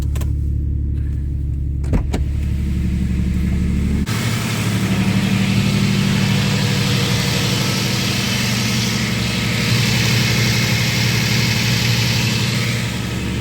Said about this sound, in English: Now we'll let the idle drop a bit because it has been sitting for like a week.